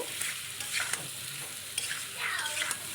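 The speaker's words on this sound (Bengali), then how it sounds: "হলুদ দিয়ে একটু ভালো করে আরেকটু নেড়ে নেব" A spoon scrapes and stirs through ghot kochu and prawns frying with turmeric in a pan. Soft scraping strokes come in uneven bursts over a low, steady sizzle, close but fairly quiet.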